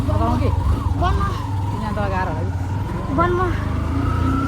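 A steady low engine rumble runs throughout, like a motorbike on the move, with a voice talking loudly over it.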